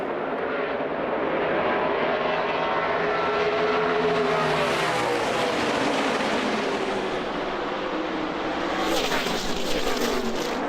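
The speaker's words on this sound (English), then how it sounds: "Here comes Chase Elliott with a big run off 2." NASCAR race cars roar around the track at Darlington in a loud, continuous engine drone, with a dense pack of machines passing close and the pitch sweeping as they go by, and no voices.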